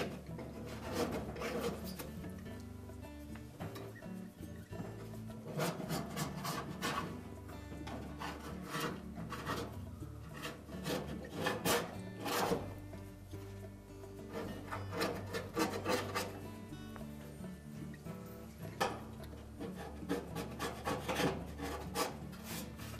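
A putty knife scrapes an old stuck-on seal off the blower housing of a Whirlpool dryer, making continuous rasping and rubbing strokes that are close and fairly quiet and keep going throughout.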